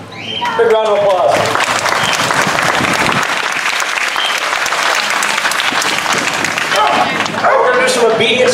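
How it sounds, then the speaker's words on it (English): Loud audience applause fills a K9 demonstration event, surging after a brief spoken line. Dogs yip and whimper nearby, and more talking comes in near the end. "Big round of applause."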